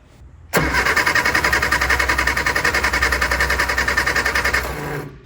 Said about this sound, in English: Going to turn the ignition on and then crank the engine over